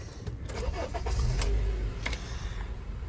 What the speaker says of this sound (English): So if we turn the vehicle on